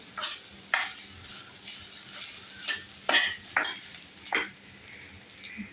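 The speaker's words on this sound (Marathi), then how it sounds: "1-2 नारळ किसून घेतलेले आहेत. थोडंसं परतून घ्यायचं." Grated coconut sautéed in a pan for a modak filling, with a soft continuous sizzle broken by several sharp scrapes and taps of a spatula against the metal, heard up close.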